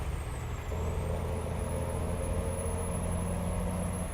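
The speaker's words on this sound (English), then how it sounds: "I love the sound of this engine." A heavy truck engine in Euro Truck Simulator 2 drones steadily at a constant loud rumble, with a faint high whine running above it.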